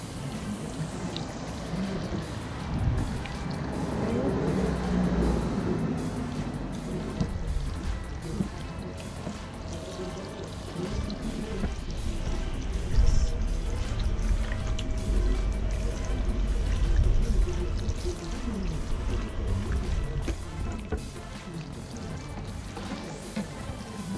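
Tap water runs and pours steadily while a cleaned ribbon fish, also called cutlass fish, is washed out, a continuous close splashing flow with small shifts in tone and no talking.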